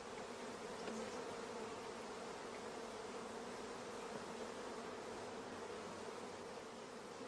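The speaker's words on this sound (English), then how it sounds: "we can hear the loud buzzing of the orphan bees" Queenless honeybees in a starter colony hive buzz loudly and continuously, a dense, steady hum close by with no pauses.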